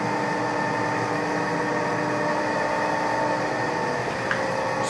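A metal lathe running steadily at 500 RPM before facing, a continuous even motor hum with tonal whine, with no talking.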